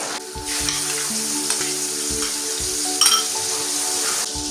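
Chili and spice masala fries in a pan for a hilsa and taro curry, giving a loud, steady sizzle with a brief metallic clink partway through and no talking.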